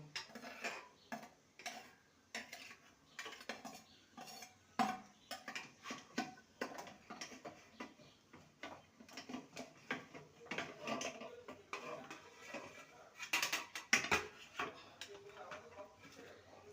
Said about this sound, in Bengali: এবারে আমি ভাত থেকে টিফিন কৌটোটাকে বের করে নেব